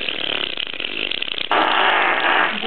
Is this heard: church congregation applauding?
no